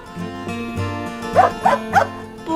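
A Pepee puzzle toy plays a dog barking sound: three short electronic yips over a looping melodic tune, close and clear.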